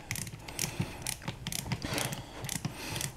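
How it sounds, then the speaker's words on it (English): Screwdriver tightening a terminal screw on a 120 volt electrical receptacle: a close run of small repeated clicks and scraping turns with no talking. "We're just going to tighten, tighten,"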